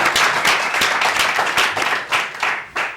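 Dense audience applause in a French TV studio, a continuous wash of many hands with a few sharper individual claps. Moderately loud throughout, without talk over it.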